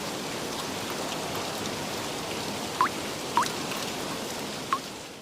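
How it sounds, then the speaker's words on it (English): Heavy rain pouring steadily over a wide area, a dense, even hiss with a few sharp drips or splashes standing out near the end. "Soon enough, Indra sent down torrents of rain in the Kuru kingdom."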